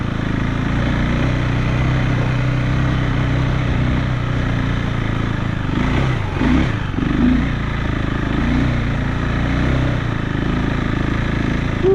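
A KTM 390 Enduro R motorcycle engine runs steadily off-road, loud and close, with a brief rev swell midway before settling back to a constant drone; no talking.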